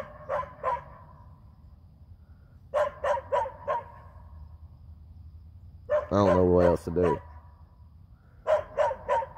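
A dog barks aggressively in sharp bursts, two to four barks at a time with pauses between, fairly close, while someone speaks over a middle stretch.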